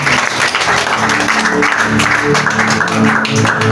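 A church congregation at a Sunday service applauds loudly and steadily throughout, with music playing underneath and voices mixed in.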